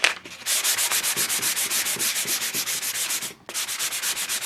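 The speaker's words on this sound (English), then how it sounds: "I am going to hit it with the sanding block again." Rapid, rhythmic back-and-forth rasping of a sanding block on flat painted MDF, close and loud, with a brief pause before it resumes.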